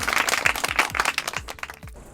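A group of people at a village gathering in Gopteppe claps together in a quick, rhythmic burst of applause that fades out after about two seconds.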